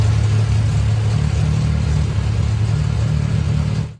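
A Ford GAA V8 tank engine runs at steady revs, its deep, rumbling exhaust tone shaped by a distinctive firing order, loud and continuous before cutting off sharply at the end.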